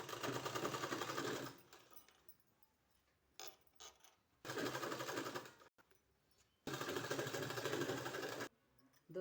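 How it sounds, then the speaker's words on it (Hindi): A sewing machine stitches a folded sleeve in three loud, steady runs of a few seconds each, its rapid needle clatter separated by quiet pauses with small handling clicks. "इस तरह से सिलाई हमने लगा दिया है"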